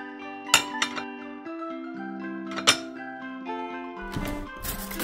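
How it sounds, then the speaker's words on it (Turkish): Ceramic plates and glasses clink sharply as they are put away in a children's cartoon, a few bright, ringing knocks over a sustained musical backdrop, with a busier clatter near the end. "Bulaşıkları yerleştirelim."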